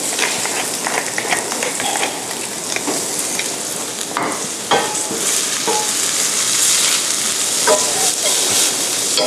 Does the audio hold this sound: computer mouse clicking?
no